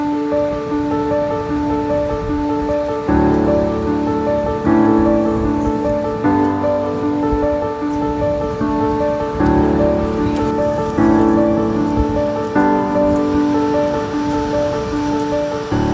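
Gullfoss waterfall in Iceland, on the Golden Circle route with an icy, slippery path nearby, gives a dense, continuous rushing roar with sustained musical tones layered over it.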